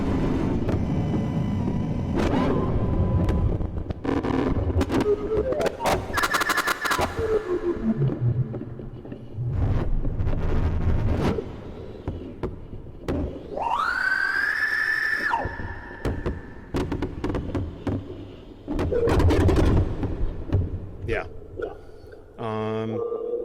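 Harsh noise from a modular synthesizer run through a Clouds granular module: loud, chaotic bursts, rumbling textures, swept whistling tones and glitchy stuttering beeps, shifting abruptly over about twenty seconds.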